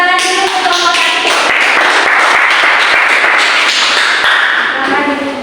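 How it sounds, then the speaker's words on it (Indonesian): A classroom group applauds group 1 at an elementary school, a dense, loud burst of many hands clapping steadily for several seconds, with a few voices faintly beneath. "Beri tepuk tangan dulu untuk kelompok 1."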